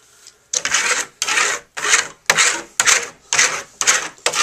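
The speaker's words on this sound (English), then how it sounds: "Now you're gonna come back with your burnishing trowel." Steel burnishing trowel rubbed hard over Venetian plaster finished with colored wax, making eight loud rasping strokes in a steady back-and-forth rhythm, each stroke separated by a short pause, with no talk.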